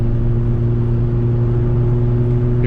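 A car engine revs hard under acceleration during a daytime drive, a loud steady mid-pitched drone with strong low harmonics filling the whole stretch, no voices.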